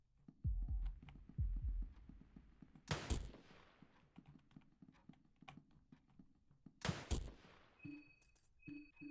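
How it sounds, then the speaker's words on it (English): Video game gunfire aimed at an enemy's arms, two loud sharp shots several seconds apart amid quieter thumping game sounds. "We've got enough to, like, shoot his arms off."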